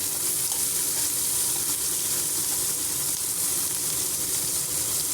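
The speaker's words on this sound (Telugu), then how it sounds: "ఫ్రై చేసుకుందామండి" Chopped onions fry in a pan with a steady, close sizzle that hardly varies, no voices over it.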